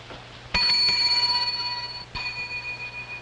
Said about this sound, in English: Quite a shrill bell noise.